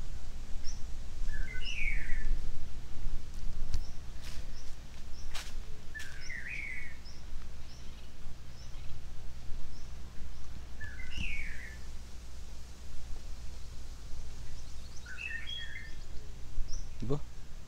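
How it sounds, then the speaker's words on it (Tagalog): Birds chirp at a campsite in Sitio Tangal in short bursts of high tweets, separated by pauses, over a steady quiet outdoor hum. "May mga huni ng ibon."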